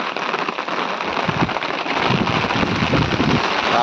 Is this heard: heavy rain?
yes